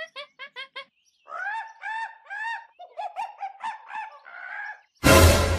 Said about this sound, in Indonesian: Itu tuh burung.